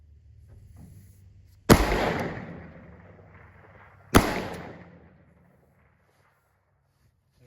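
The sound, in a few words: rifle shots fired at field targets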